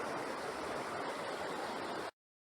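River flowing steadily at Effie Yaw park, with running water at high flow making a dense, even rushing roar that is continuous and fairly close, then cutting off abruptly into silence.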